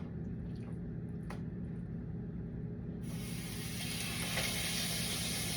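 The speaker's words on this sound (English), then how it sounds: "now I'm gonna take them and put them directly on my hot pan" Lamb chops laid on a hot grill pan give a steady frying hiss that jumps into a brighter, louder sizzle partway through, close up with no talking.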